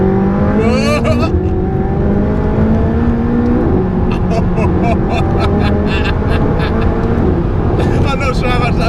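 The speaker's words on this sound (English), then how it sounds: "that was just getting the revs right so that the exhaust can crack" A stock McLaren 675LT exhaust revs loudly and continuously with rising and falling engine tones, sharp crackles breaking through near the start and end, while people talk over it.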